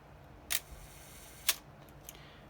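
A Miranda Auto Sensorex EE camera fires its shutter at slow speeds, giving quiet, sharp mechanical clicks: two distinct snaps about a second apart, then softer faint ticks.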